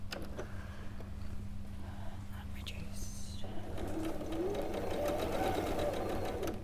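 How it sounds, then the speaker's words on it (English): Quilt fabric being stitched on a sewing machine with a quarter-inch seam: a low steady motor hum and whirr runs throughout, with faint speech and small background sounds over it. "I'm just going to stitch that on with 1/4 inch."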